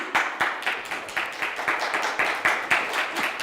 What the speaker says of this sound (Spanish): Si va a aplaudir, vamos, hágalo más fuerte